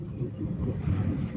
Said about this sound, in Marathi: बघा टेम्पो आला मध्ये.